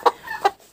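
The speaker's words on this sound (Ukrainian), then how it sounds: "яка криклива курка" A broody hen gives two loud, sharp clucks in quick succession, close by.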